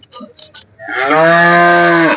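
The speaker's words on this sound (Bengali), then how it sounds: "গরু ডাক দিয়ে দিছে" A cow gives one long, loud moo close by at the Gabtoli cattle market in Dhaka before Eid al-Adha, preceded by a few faint background noises.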